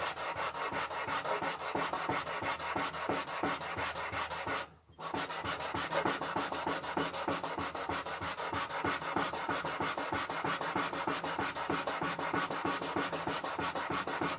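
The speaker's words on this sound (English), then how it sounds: "marking the high spots and sanding them away." Rhythmic back-and-forth rasping of sandpaper on wood, sanding down high spots on an antique moulding plane, close and steady, with one brief pause partway through.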